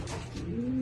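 A dark check Hardy Kruger pigeon hen gives a short low coo inside a loft, close by and soft.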